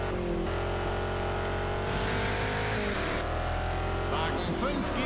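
Race car engine in the video game Juiced 2 roaring at full throttle, a loud continuous drone with gear-shift drops and rising revs, a voice talking over it.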